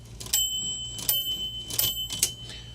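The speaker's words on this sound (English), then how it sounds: "listen to this," The bell of a 1935 IBM Model 01 electric typewriter under repair rings in a series of bright metallic dings, several strikes in close succession over a low steady motor hum.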